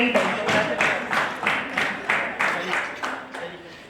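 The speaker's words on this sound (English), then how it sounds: "A round of applause from all of you" Audience applause at a joint installation ceremony of RCS Cantt and AACE: roughly nine rhythmic, evenly spaced bursts of group clapping, steady and moderately loud, with no talking.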